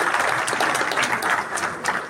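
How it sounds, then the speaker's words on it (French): An audience at a Moroccan Jewish community celebration applauds an orchestra with a dense, steady patter of many hands clapping, continuous and moderately loud throughout. "M. Pinhas Assayag, avec son orchestre qu'on peut applaudir très fort."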